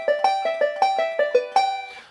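A banjo plays a roll with the thumb over the fifth string. About nine bright, evenly spaced plucked notes ring out alone, up close, and the last one fades away.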